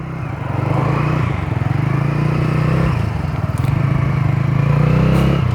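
A Bajaj Freedom 125 CNG motorcycle idles and rides slowly through a U-turn, its single-cylinder engine chugging steadily and close for the whole stretch, with no talk over it.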